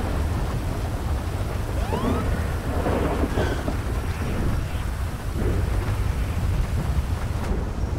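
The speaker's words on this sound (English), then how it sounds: "we are back on patrol here in rainy Los Santos" Rain hisses steadily in GTA V with the Teriyaki mod, as Los Santos weather brings a dense, loud downpour layered with low rolling thunder throughout.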